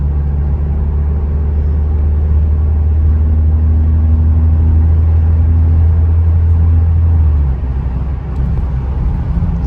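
An Alfa Romeo Stelvio 2.0 fitted with a Monza exhaust system cruises at highway speed in a high gear, giving a steady, loud, deep exhaust drone with road rumble that holds evenly throughout.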